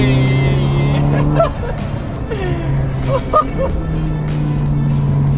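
A red Volkswagen Scirocco with a tuned Stage 3+ 2.0 turbo engine making about 370 horsepower rumbles steadily up close, with a few sharp pops and crackles breaking through the drone.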